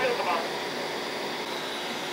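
A Tineco Floor One S7 Steam mop spins its brush roller dry after its cleaning cycle, giving a steady, close, whirring hum that stays even throughout.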